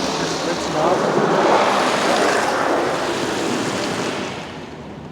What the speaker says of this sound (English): Right now we're in our triple foam.